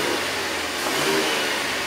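A car engine revs up under throttle during a scan-tool RPM and throttle response test, a steady loud rising drone heard close with no talk over it.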